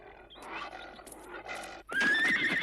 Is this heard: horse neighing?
yes